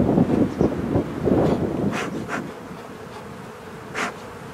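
Honeybees buzz softly and continuously close by during a spring hive inspection, with a few brief louder passes and some light wind noise.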